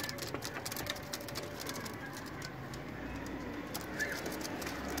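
Teddy golden pigeons coo softly and repeatedly amid light rustling and faint chirps, a low steady murmur of several birds kept for sale, with no talking.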